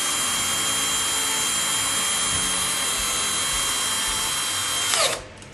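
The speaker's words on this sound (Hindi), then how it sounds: "अब इसको हम मशीन के साथ कर लें या आप नॉर्मल 4 मुंह वाले पेचकस के साथ टाइट कर दें इसको ना" A power screwdriver drives a screw into a house door lock with a steady, close, high whine lasting about five seconds, then cuts off abruptly. No one talks.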